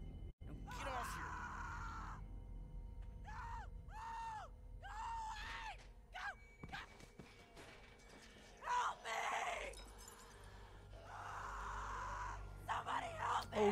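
A character screams in The Walking Dead video game, with drawn-out, strained cries rising over a dark, tense game soundscape, along with crashes and clunks later on.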